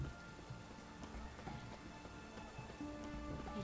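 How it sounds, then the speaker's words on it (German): Rain in The Witcher 3: Wild Hunt, a soft, steady patter of drops falling on surfaces, faint and continuous with low rumbling texture beneath and no speech. "Es regnet. Natürlich ist es da feucht."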